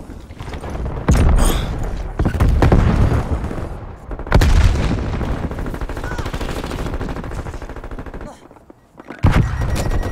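Game explosions and bursts of gunfire in Call of Duty Black Ops Cold War multiplayer, loud booms and rapid shots in several waves with brief quieter gaps between them.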